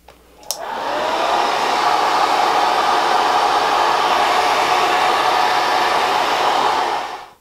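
A hair dryer blows on a wig after a click switches it on, holding a loud, steady, close whoosh and hum for several seconds before cutting off.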